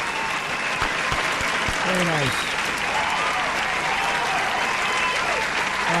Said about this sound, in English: Give him a nice round of applause. Billy Joel.